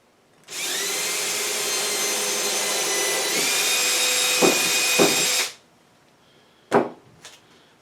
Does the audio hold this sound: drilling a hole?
yes